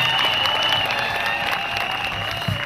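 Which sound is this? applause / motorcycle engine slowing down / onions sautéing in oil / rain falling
applause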